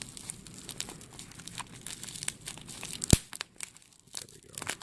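Tape being torn and bubble wrap crinkled off a package, close-up rustling and crackling with a sharp loud rip near the end.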